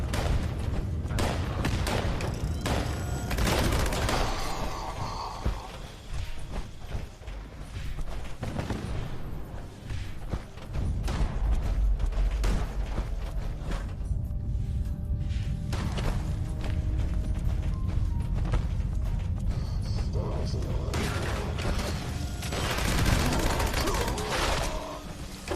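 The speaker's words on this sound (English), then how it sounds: "This gun is really fun to fire." Rapid gunfire from a weapon in Fallout 76, repeated bursts of loud shots and booms running through a busy combat mix, with brief lulls between volleys.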